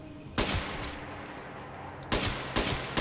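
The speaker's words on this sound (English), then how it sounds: "Start shooting at it." Gunfire in the video game Fallout 76 aimed at a tough honey beast: one loud burst of shots near the start, then after a pause three more sharp blasts close together, all near and loud with no talk.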